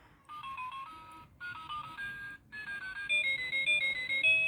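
Electronic alarm melody from a Saksham talking silver wristwatch with a metal strap, a bright beeping tune in repeated short phrases separated by brief gaps, moderately loud and alone over a faint background hiss.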